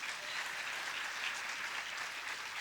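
Steady, dense applause from an audience at a Ram Katha religious discourse, filling the space evenly from start to finish with no talk over it.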